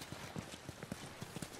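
A horse's hooves clip-clop in a steady walking rhythm, soft and close, in The Last of Us video game, with a faint background hiss.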